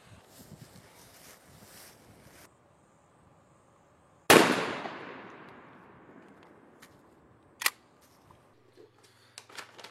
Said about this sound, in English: now we're going to shoot the Longbeard XR 6s at 40 yards with the 655